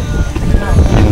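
Strong wind on Brahmagiri mountain near Trimbakeshwar, heard as a steady, loud, close rumble of gusts buffeting the microphone, with no pauses.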